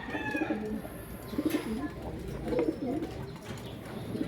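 Racing pigeons at a loft coo in soft repeated rolling phrases, fairly close, over a low murmur of background noise.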